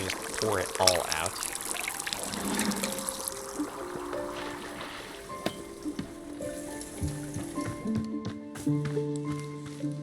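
Tea poured out in a stream at the start, a short burst of liquid splashing, followed by scattered game-like tones and other sounds with speech.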